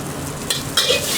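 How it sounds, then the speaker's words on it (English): Garlic stir-frying in a hot oiled pan for char kway teow, a steady close sizzle with two brief louder bursts of stirring or tossing partway through. "So we're gonna stir fry with a little bit of garlic."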